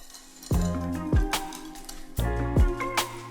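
Powdered vanilla sugar is mixed into banana batter in a bowl, with a utensil knocking and scraping the bowl in a few ringing clinks and soft wet strokes at an uneven pace.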